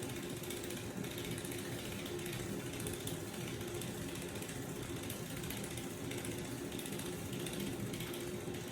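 A Nu Skin LumiSpa facial cleansing device runs continuously against the face with a dense, steady mechanical buzz and whir at constant loudness, close and alone without talk.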